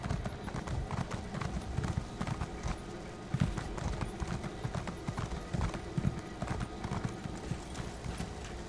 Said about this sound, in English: a lot of people like to get the horses out to ride to the next one